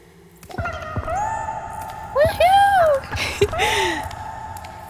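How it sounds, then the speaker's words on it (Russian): Cats in the video game Pulse meow several times, with rising and falling calls close by, one after another, and a brief louder yowl near the end. "Еще и мурчат так мило."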